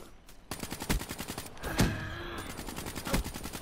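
M8A7 rifle fire in Black Ops 3 online multiplayer: rapid bursts of automatic gunshots with sharp cracks and a few louder booms, steady rhythmic rattling throughout at moderate level.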